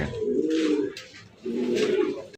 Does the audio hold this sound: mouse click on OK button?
no